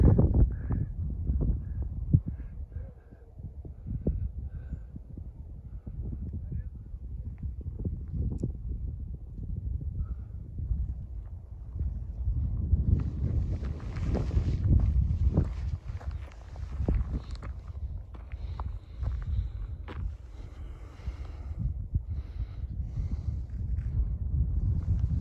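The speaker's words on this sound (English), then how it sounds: "It's windy." Gusty wind at the Grand Canyon, Arizona, around sunset rumbles and buffets the microphone throughout, with low roaring surges and no voices.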